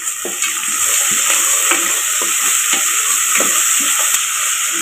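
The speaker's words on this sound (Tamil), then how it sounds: "எண்ணெய் சூடாச்சு, வெங்காயம் சேர்த்துக்கலாம்." Onions frying in hot oil for a mutton boti kulambu, a loud steady sizzle with repeated stirring scrapes of a spoon in the pan and no talking.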